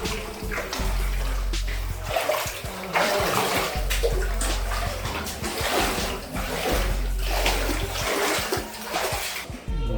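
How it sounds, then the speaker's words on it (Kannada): Water rushes steadily inside a rock-cut cave temple on Shivaganga hill during the rainy season, a loud continuous splashing flow that fills the whole clip with little else audible. "ಇದು ನೋಡಿ ನೀರು ಯಾವ ಥರ ಹರಿತಾ ಇದೆ ಅಂತ."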